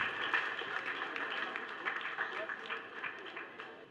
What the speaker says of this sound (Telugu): అందరూ మీ చప్పట్లతో వారికి శుభాకాంక్షలు.